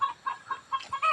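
A chicken clucking in a quick run of about six short, evenly spaced calls, close and fairly loud, with a brief burst of rustling near the end.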